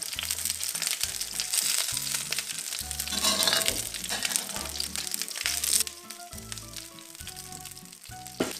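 A pan sauce reduces beside salmon in a cooking pan, sizzling and crackling loudly and continuously up close, with bursts of frying that settle to a lower simmer near the end.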